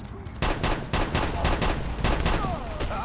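Rapid bursts of automatic gunfire in the mobile shooter Guns of Boom, loud, close and repeated in quick succession, with brief game announcer callouts over the shots.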